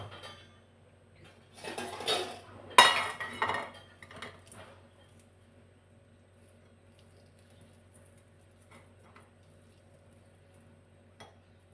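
Pitted dates tumble and clatter into a bowl in a short burst of clinks and rustles near the start, then the kitchen settles into near silence with only a few faint taps.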